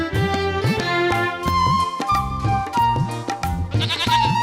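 Goat bleating in a cartoon scene, a string of wavering calls repeated in quick succession over a rhythmic music backing, loud and close.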